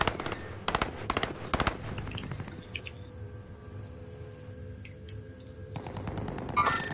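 Rapid bursts of automatic gunfire in a video game battle, several sharp volleys in the first seconds, then a steady hum with scattered distant shots and a final loud burst at the end.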